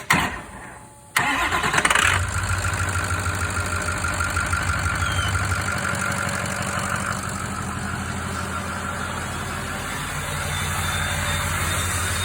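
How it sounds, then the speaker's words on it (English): Ford 6.0 Powerstroke diesel engine cranking over with a 6.0 starter, firing up after a brief crank and settling into a loud, steady, rumbling idle close by, with no talk. "you heard how it started with the 6-liter starter"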